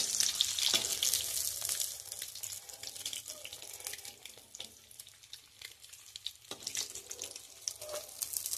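Eggs fry in hot oil in a home kitchen pan, giving a steady hissing sizzle with crackling pops throughout, fairly close and moderately quiet, with no talking.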